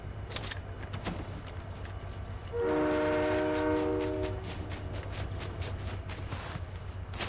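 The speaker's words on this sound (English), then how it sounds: "I hear the train." A video-game train horn blares for about two seconds with layered sustained tones, rising over a steady low rumble and scattered clicks from gameplay.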